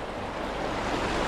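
Steady, broadband rushing water from a mountain stream fills the whole moment, a dense continuous roar close to the microphone with no pauses or voices.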